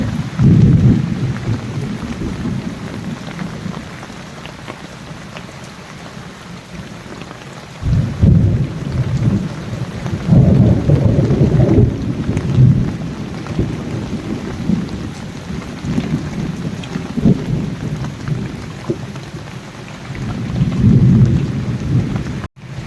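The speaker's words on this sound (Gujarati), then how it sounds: "એ ગાજ વીજ ગાજવા વીજળી પડી" Monsoon rain falls steadily as deep, rolling thunder rumbles again and again, swelling and fading in long low waves close overhead.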